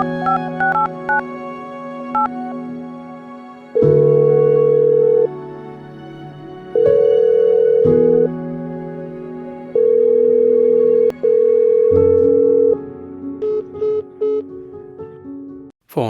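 A telephone call to someone's mother, with a short dial tone followed by long, loud, evenly repeated ringing tones and a few quieter beeps at the end, with no speech.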